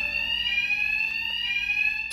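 A steady, loud electronic fire alarm rings continuously in Batman Arkham Knight, one unbroken harmonic tone with no talk over it.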